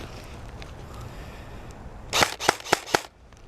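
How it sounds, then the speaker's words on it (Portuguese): Four sharp airsoft gun shots crack out in quick succession close by during an outdoor airsoft game, following a stretch of quiet background ambience. "Aqui pra esquerda estão atirando."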